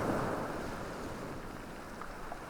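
Ocean waves washing onto a shore, a continuous broad rush of surf with a breezy, wind-blown quality and no voices.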